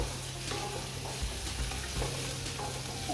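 Mustard seeds and curry leaves are stirred in hot oil as a tempering, giving a steady soft sizzle with light scraping strokes. No one speaks.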